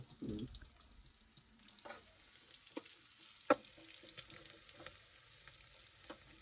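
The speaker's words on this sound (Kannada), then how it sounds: "ಈರುಳ್ಳಿ ಫುಲ್ಲು ಡ್ರೈ ಆಗೋವರೆಗೂ ಬೇಯಿಸ್ಬೇಕು" Onions frying in a pan until dry make a faint, steady sizzle, broken by a few soft stirring scrapes and one sharp metallic clink partway through.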